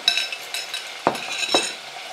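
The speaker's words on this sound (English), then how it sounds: "I'm going to give that a stir again" About a kilo of tripe is stirred in a cooking pot, giving two distinct scraping strokes against the pot over faint background sizzle and small clinks.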